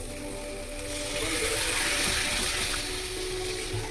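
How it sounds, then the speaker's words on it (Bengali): Water pours steadily into a cooking pot of sugared potato curry for a Bengali aloo dum, a continuous splashing rush that swells slightly midway and then holds, with no voices. "এবার এতে জল ঢেলে দিচ্ছে মা।"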